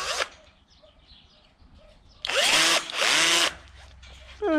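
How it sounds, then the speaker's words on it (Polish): A cordless drill/driver twists wire ties around rebar on a construction site. It makes several short, loud whirring bursts that rise and fall in pitch, separated by quieter pauses and faint background birdsong. "To może dajcie jej wkrętareczkę. Patrzcie, jak to fajnie idzie."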